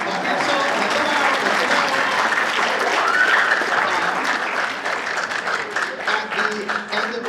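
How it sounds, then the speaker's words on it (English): Audience applause at a middle school winter band concert, steady clapping from a full hall lasting several seconds with some voices mixed in, tapering slightly near the end. "Claps are fine too."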